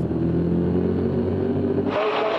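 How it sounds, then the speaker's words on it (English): Stock cars racing side by side at Kawartha Racetrack in a 2002 CASCAR event, a loud sustained engine roar that shifts and drops in pitch near the end as the cars pass, no talk. "We got cars racing side by side, allows Scott Steckley to get away."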